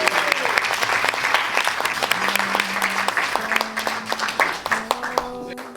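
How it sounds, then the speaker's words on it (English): Wedding guests clapping and cheering in a celebration setting, a close, lively burst of many hands with scattered whoops and voices, the applause thinning toward the end as sparse claps and murmuring remain. "So please give a cheer for my brother who's going to do the speech."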